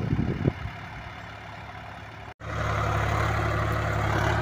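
A Sonalika 35 tractor runs a 6-foot rotavator through a field, its steady low engine drone and rumbling tillage noise continuous and close, with a brief dropout midway before the sound swells back louder.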